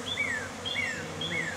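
A mass of honeybees at a hive removal job in West Houston drones steadily and close by, with a few individual insects whining past in short repeated passes over the low hum.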